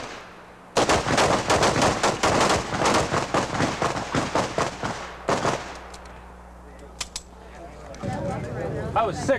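Rapid strings of loud gunshots ring out at a 1986 combat shooting match, dozens of close, sharp cracks fired in quick bursts for several seconds before tapering to a few scattered shots, with people talking faintly afterward.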